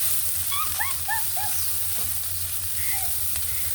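Food browning in hot oil in a pan, a steady near sizzle with a few chirping squeaks over a low background hum.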